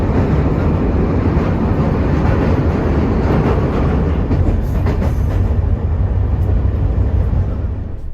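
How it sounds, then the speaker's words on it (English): Passenger train approaching Qena, Egypt, running late: a steady, loud rumble and rattle of wheels and carriages heard from inside, continuous throughout with no talking. "By now our train is almost 1 hour late, but we are finally approaching Qena"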